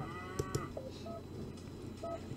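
Cattle mooing in the McDonalds Simulator farm game, a few low drawn-out bovine calls with brief sharper bursts over a steady background hum, no talking.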